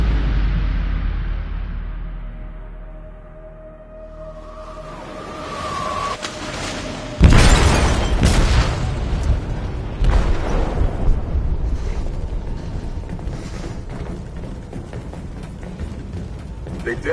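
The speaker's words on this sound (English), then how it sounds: "They detonated an explosive in the hold. The ship is sinking, sir." A huge, loud blast from an explosive detonated in a ship's hold in Detroit: Become Human, a sudden roaring boom followed by rumbling, crashing debris and a long sustained noisy wash that slowly fades.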